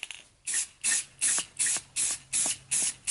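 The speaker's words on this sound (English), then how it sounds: "we're gonna spray this with clear." Short, rhythmic bursts of a spray can applying clear coat to a blaster barrel, about six quick hissing pulses in a row, close and crisp with no speech.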